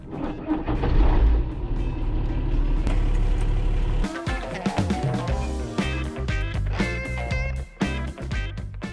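Car driving along a mountain pass road in South Africa, a steady engine and road rumble that shifts around the four-second mark into busier, more varied vehicle noise with brief tonal sounds.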